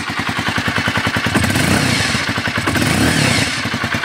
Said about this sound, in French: On va donner quelques petits coups de gaz.